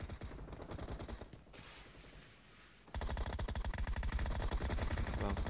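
Rapid bursts of gunfire in the mobile shooter PUBG Mobile during an 8 vs 8 team deathmatch, a loud volley of repeated shots, a short lull, then another sustained string of sharp cracks.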